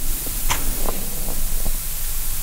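A statue in the adventure game Tale of a Hero gives off a steady, faint, airy hiss, with a few soft clicks over the top and no voices.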